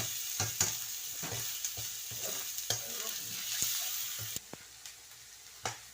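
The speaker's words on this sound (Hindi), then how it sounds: "इसको मैंने ऑयल में फ्राई करना है।" Minced mutton frying in oil, with a steady sizzle and hiss broken by irregular scraping strokes of a spoon stirring the pan, close up.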